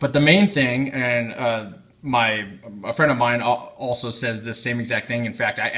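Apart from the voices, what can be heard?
None of the usual background noises is heard.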